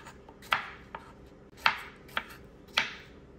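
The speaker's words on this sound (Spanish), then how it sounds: "Estos los corto yo en trozos chiquitos" A knife chops strawberry or melon on a cutting board in three main strokes, each a sharp crisp cut followed by a lighter tap.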